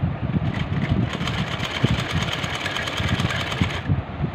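A sewing machine stitches along a frock sleeve with a fast, steady mechanical chatter, close and continuous throughout.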